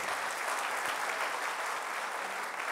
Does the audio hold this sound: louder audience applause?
yes